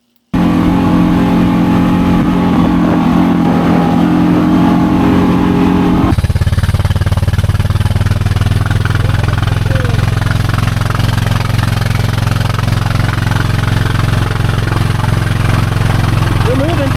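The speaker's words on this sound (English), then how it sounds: "we had the Pioneer 500 with 3 people on it in North Beach doing water wheelies" A Honda Pioneer 500 side-by-side carrying three people splashes through water at a beach, its engine running loud and steady throughout, the tone dropping and thickening midway as it works harder through the water.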